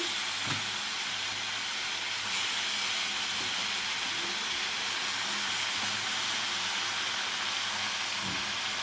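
Washed mutton goes into a pot with turmeric and steams, giving a steady soft hiss and sizzle throughout with a few faint knocks, heard up close and with no talking.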